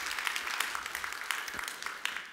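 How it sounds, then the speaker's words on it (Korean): A church congregation at a Wednesday service claps together for the choir, a moderate, fairly quiet patter of applause with distinct individual claps that slowly fades. "우리 마음을 모아서 우리 박수 한번 하시겠습니다"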